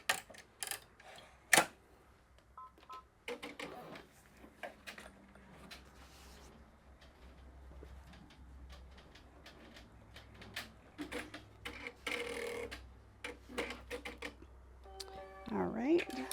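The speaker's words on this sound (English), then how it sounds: "now we're going to sew it out so that it'll tack the D-ring down" An embroidery machine stitches down a D-ring on an in-the-hoop 5x7 zipper bag, making steady light mechanical ticking and clicking with occasional louder clacks, close by, with a voice talking over parts of it.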